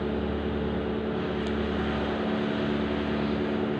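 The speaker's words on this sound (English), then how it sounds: "That's a military patrol plane." A military patrol plane drones overhead in a loud, steady, broadband roar that holds without a break and sits close and dominant, with no voices.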